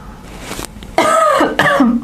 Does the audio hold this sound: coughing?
yes